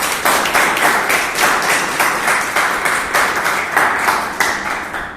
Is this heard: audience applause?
yes